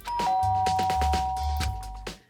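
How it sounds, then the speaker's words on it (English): A doorbell chimes in the video game Danganronpa: Trigger Happy Havoc, a loud ding-dong tone repeating several times over a low bass musical backdrop, with no talking. "I press the doorbell."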